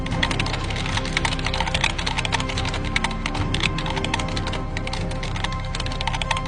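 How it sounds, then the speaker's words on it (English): Steady, rapid clatter of keys as a police officer types on a computer keyboard, continuous and close, with a constant low hum underneath. "the police lady is typing on her computer"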